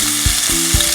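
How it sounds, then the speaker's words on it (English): Four bacon strips sizzle in a pan heated beforehand, a close, steady crackling hiss with a few soft bumps of stirring. "I got it hot before I added the bacon because I wanted to get that sizzle right away"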